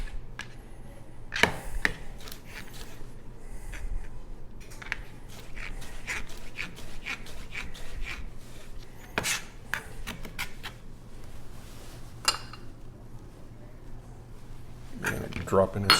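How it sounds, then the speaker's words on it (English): A knife slices a cored vegetable into quarter-inch strips on a board for a breakfast pizza, giving a scattered run of sharp cuts and taps close by over a steady low hum. "We slice it into strips, and you want these approximately, I don't know, around 1/4 inch."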